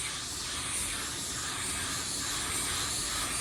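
A PRD-815 paint spray gun lays down a first coat of clear, producing a steady, loud, unbroken hiss of atomized spray that stays even from start to finish with no pauses.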